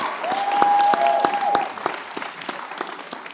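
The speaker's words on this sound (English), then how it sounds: "Y'all give him a huge round of applause, Mr. J.T. Johnson." Audience applause at a Black History celebration event, a dense wash of clapping with some sharp individual claps standing out, loud and sustained before easing off toward the end.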